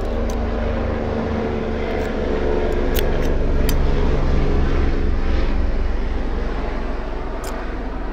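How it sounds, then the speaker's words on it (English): A helicopter passes overhead as a broad rumbling wash that swells to a peak midway and then eases slightly, heard outdoors with a few faint clicks over it. "just wait for the helicopter to pass by overhead."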